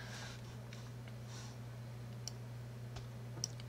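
Computer mouse clicking on a web page tab, a few faint, light clicks spread across a quiet stretch over a low electrical hum, no speech.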